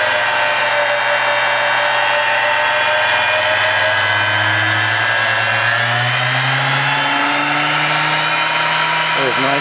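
Premier Mill laboratory dispersator, Series 2000 Model 90, running loud and steady with a high motor whine that climbs in pitch as the speed is raised, close and continuous.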